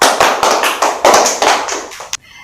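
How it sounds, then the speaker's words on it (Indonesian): A classroom of fourth-grade children claps along, a string of sharp, close hand claps in a loose rhythm before ending abruptly. "Beri tepuk tangan untuk kita semua."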